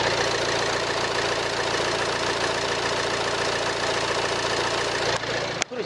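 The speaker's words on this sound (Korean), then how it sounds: "지금 이렇게 바로 엔진룸 개방했고요 엔진 소리 들려드리도록 하겠습니다" A diesel engine idles steadily at close range, a constant low knocking hum that ends with a brief clunk.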